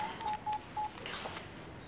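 A phone number is dialed as four short touch-tone beeps in a quick, even row, followed by faint background sound.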